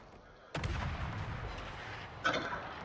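Naval guns of the destroyer Gearing fire in a warship game: two sharp, booming salvos about two seconds apart, the first followed by a long rumbling decay, fairly distant and without talk.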